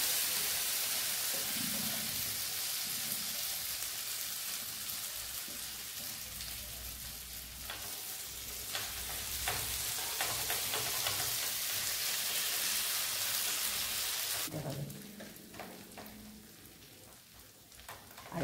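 Potato thalipith frying in a pan over a medium flame, giving a steady, dense sizzle that holds for most of the clip. The sizzle drops to a quieter crackle near the end.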